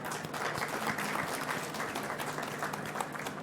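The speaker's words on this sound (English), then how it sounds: "we would like you to really give a round of applause to our speakers." An audience gives a steady round of applause for the speakers at a conference session, dense clapping that continues evenly throughout.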